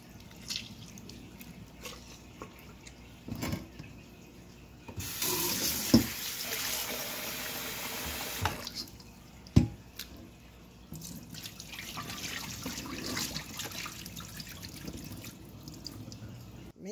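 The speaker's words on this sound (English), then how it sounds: "Make sure you drain all the water from the meat when you wash it." Tap water runs steadily into a kitchen sink while raw beef for stew is rinsed with vinegar and lemon, with splashes and drips rising and falling over the stretch and a few clunks of handling.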